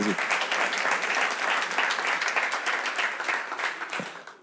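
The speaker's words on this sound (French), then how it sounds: "il va applaudir tout de suite" An audience at a warm evening show bursts into lively applause, many hands clapping densely and steadily before tapering off near the end.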